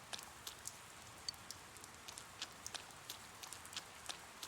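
Steady rain falling in Persona 4 Golden, a constant soft hiss with scattered sharp droplet ticks throughout, quiet and uninterrupted, with no voices.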